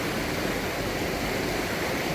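Water rushes steadily over and between stones in a rocky stream a few days after heavy rain, a dense, continuous broadband wash at a constant level throughout with no voices.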